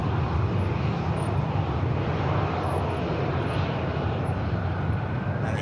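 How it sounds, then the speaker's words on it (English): Ryanair jet airliner taxiing at Manchester Airport, a steady, continuous engine roar and whine held at an even level throughout, fairly close, with no voices. "It's the Ryanair heading to Palma de Mallorca."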